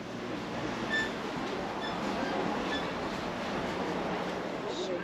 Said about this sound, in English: Oh, this is going the Harry Potter train